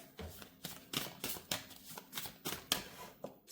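Tarot cards riffled and drawn from a deck in quick, repeated papery bursts, soft and close, with no voices over them.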